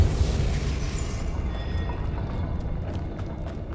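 A Depulso spell blast in Hogwarts Legacy bursts out as one loud, booming impact that rolls away into a rumbling decay over a few seconds, with no voices.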